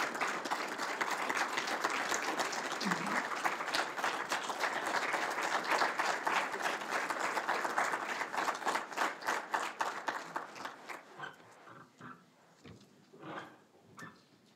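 An audience at a Martin Luther King Jr. Day ceremony in Westland, Michigan applauds the Lieutenant Governor in a dense, steady wash of clapping that thins into scattered claps and fades toward the end.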